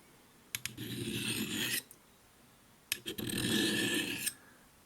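A fixed-blade knife with a convex edge drawn across the rods of a Lansky turn box sharpener, two separate close gritty rasping strokes, each lasting over a second, with a pause between them.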